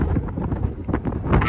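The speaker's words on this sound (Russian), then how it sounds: "дует ветер" Wind blowing across a grassy glider airfield, a steady broadband rumble with gusty swells and buffeting on the microphone, no voices.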